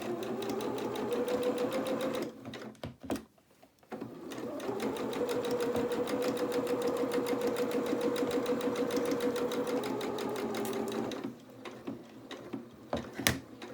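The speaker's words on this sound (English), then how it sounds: "And now I'm just going to then just sew." Sewing machine stitching a seam on a small doll's twirling dress, running steadily for about two seconds, pausing briefly, then stitching again in a long continuous run before stopping, with faint clicks afterward.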